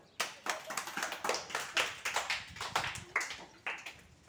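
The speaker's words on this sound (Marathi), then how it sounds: "टाळ्या वाजवा एकदा तुमच्यासाठी." A group of children claps together, producing a quick, slightly ragged run of sharp hand claps that lasts about four seconds. A faint murmur of voices sits underneath.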